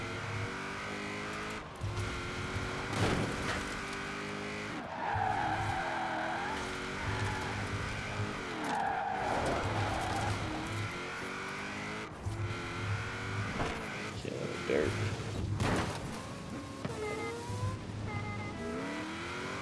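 Race cars in Forza Horizon 4 screech and skid through corners over continuous engine roar, with tire squeal rising and falling throughout.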